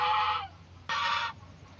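Two loud, hoarse honking calls from Muscovy ducks kept as nesting layers, each about half a second long with a short pause between, close by and with no talk.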